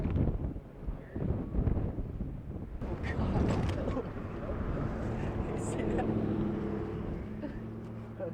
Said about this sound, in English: Oh wow, it is fucking windy.